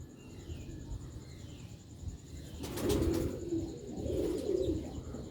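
Sialkot rooftop pigeons of an old, century-long breed give two low, rolling coos at moderate distance over a steady background hum, with no talking.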